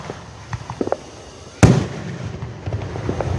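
Fourth of July fireworks at a town show go off in a few sharp pops and crackles, then one loud, close boom with a lingering rumble and crackle afterward.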